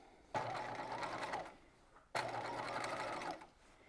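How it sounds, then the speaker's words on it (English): A sewing machine runs in two short bursts of rapid mechanical stitching along a seam on a corset belt, with a brief pause between them, close and fairly quiet. "And now I can just stitch."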